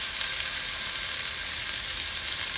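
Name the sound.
beef stew ingredients frying with minced garlic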